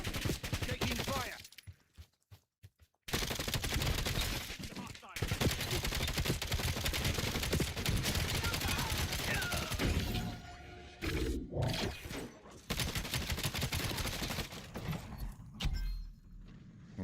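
Heavy gunfire in Call of Duty Black Ops 7, with bursts of automatic shots and sharp cracks that keep going for most of the stretch, broken by short quiet gaps and some glass-like shattering. A voice talks in places.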